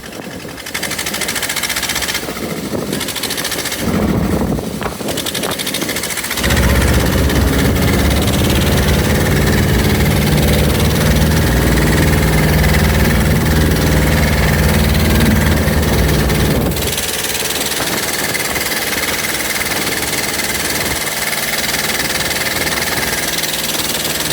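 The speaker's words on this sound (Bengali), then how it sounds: "এখন আমাদের ট্রলারটি জোরে চালিয়ে জালের গায়ে যাওয়ার চেষ্টা করছে" Fishing trawler engine running hard on the Bay of Bengal during a storm, a loud, steady mechanical drone that deepens and swells in the middle, with wind and wave noise around it and no talk.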